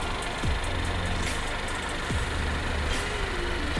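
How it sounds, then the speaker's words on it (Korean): Steady low engine drone from a first-generation Cadillac ATS 2.0 with a constant hum and faint mechanical ticks, heard up close in the engine bay with no talking. "엔진 소리도 일정합니다"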